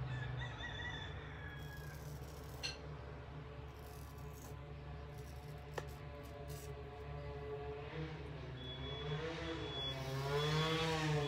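A rooster crows repeatedly, loud and close, with clucking in between and a long, wavering final crow; a low steady hum runs underneath throughout.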